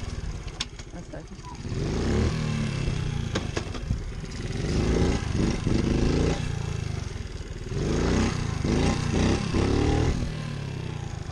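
A pit bike engine revs hard during wheelie practice, its loud, close buzz surging up and down in repeated bursts with some clatter between throttle blips.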